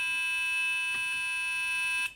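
A Brymen BM869S multimeter beeper producing a steady 1 kilohertz tone, continuous and loud for about two seconds with a few faint clicks, then cutting off abruptly.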